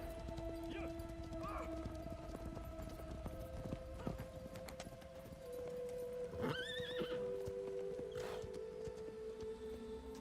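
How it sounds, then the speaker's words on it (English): Horses in the video game Shadow of the Colossus whinny in several rising and falling calls against a steady ambient drone, with faint hoof clip-clops and someone talking at times. "More horses!"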